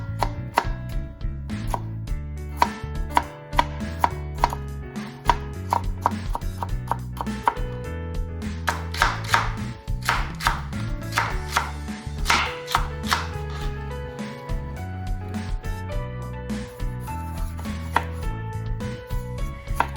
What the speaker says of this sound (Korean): 될 수 있으면 모든 재료를 같은 길이로 잘라주시면 보기에 더 깔끔하고 이쁘겠죠?